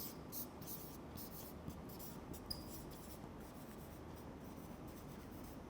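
Marker or chalk scratching steadily across a classroom board during a math lesson on terminating and non-terminating decimals, a faint continuous scrawl with small squeaks and no talking.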